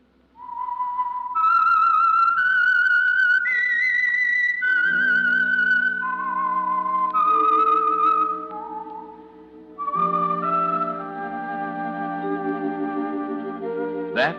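A clear, solo whistled melody of sustained notes rising and falling, the theme of the radio program The Whistler, joined midway by a low orchestral backing as the tune continues.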